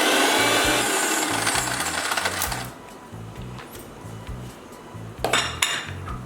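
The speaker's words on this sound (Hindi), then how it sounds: "और इसको हम पहले इसको ऐसे ही चला लेंगे।" A spoon stirring sugar in a milkshake, quick rhythmic clinks and scrapes against the container, loud and close at first and then softer, with a few brighter knocks near the end and no talk.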